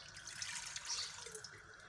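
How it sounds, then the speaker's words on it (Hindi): Two glasses of water pour steadily into a cooking pot set over a lit flame while making keema kachnar, a continuous close splashing stream with no talking. "तो अब इसमें जो पानी जाएगा वो दो गिलास पानी जाएगा।"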